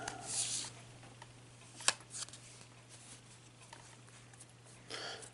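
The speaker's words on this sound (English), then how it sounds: "And we just cut the deck" A deck of fortune-reading cards being shuffled and handled close by, soft papery riffles and flicks coming in a few separate bursts over a steady low hum, quiet and without speech.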